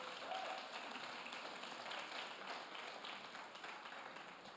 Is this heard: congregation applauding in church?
yes